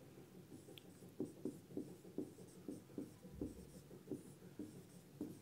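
Handwritten notes going down quickly on paper, with a pen or pencil scratching in short, rhythmic strokes and small pauses, close and quiet, with no voices.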